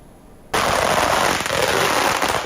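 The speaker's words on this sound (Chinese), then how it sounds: "肉身邯郸爷站得直挺挺，接受鞭炮洗礼" Firecrackers explode during a temple procession at Wanli Baoan Temple in Tainan, where a man playing Handan Ye stands in the blasts. After a short quiet lead-in, a dense, loud, continuous crackle of rapid bursts begins.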